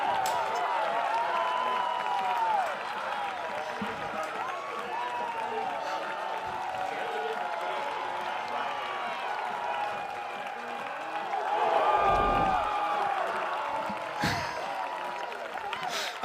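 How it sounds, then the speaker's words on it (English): A college baseball crowd in Bloomington cheers and claps after a home run, a sustained wash of applause and shouting with a swell around the middle, heard beneath continuous commentary. "you can hear the reaction from the crowd here in Bloomington"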